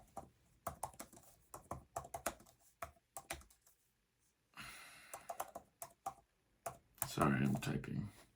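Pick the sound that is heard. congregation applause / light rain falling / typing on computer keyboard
typing on computer keyboard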